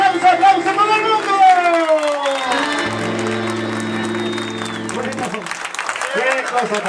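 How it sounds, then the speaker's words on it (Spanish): Crowd applause and cheering at a regional folk music concert, rising under amplified music and voices on stage, with sustained instrument tones and talk mixed in throughout. "aplauso para el mundo."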